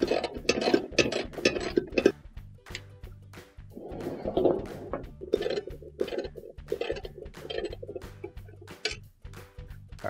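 A half-inch socket and ratchet loosen the leg bolts on a washing machine during tub bearing repair, giving repeated close metallic ratchet clicks and clanks in uneven bursts with brief pauses.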